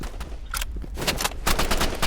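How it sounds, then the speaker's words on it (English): Bursts of gunfire from an online shooter game called Rivals, including a sniper rifle shot, crack out as several sharp, loud reports over a busy game mix. "Yes, that's a sniper."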